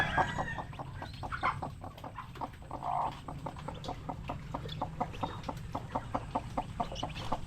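Native chicken chicks peep in a rapid, steady stream of high chirps close by, with some louder clucking from grown fowl mixed in and no talking.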